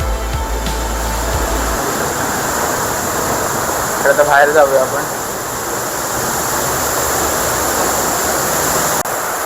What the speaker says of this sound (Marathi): हा धबधबा किती जोराने पडतोय बघा. खूप जोरात आवाज येतोय आणि खूप उंचावरून पडतोय.